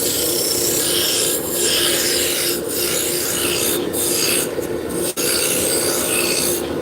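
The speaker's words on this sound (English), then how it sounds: "So we're using a roughing gouge to just block everything in." A roughing gouge cuts wood blanks on a lathe, a continuous close rasping scrape with brief breaks and a sharp catch near the five-second mark, with no talk.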